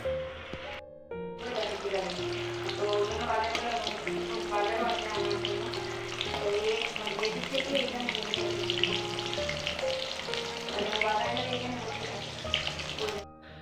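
Pointed gourd fries in a pan while rice is added, a continuous loud sizzle with stirring and clattering, and soft music plays underneath throughout.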